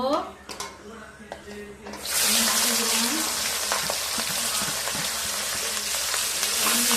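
Sliced onions dropped into hot oil with bay leaf in a wok set off an abrupt, loud sizzle that holds steady, following a few quieter kitchen clinks and a voice speaking just before.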